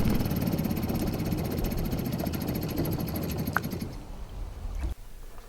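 A 1952 Johnson outboard engine idles with a fast, even knocking putter, close and fairly loud, then the running note cuts off abruptly near the end leaving quieter noise.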